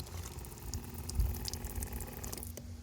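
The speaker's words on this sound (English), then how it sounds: "I also have a little tap here, so if I flick that on," Water running from a small tap fed by an electric pump in a Landcruiser 80 tourer, powered by the secondary battery; a close, continuous splashing trickle with a low hum underneath.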